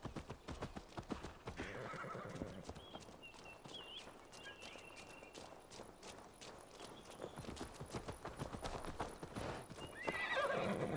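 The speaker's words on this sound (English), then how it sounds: "That horse really wants to be ridden, but Hunvald's not going for it." Horse in Assassin's Creed Valhalla neighing and whinnying while its hooves clip-clop steadily throughout, with a louder whinny near the end over a continuous game soundscape.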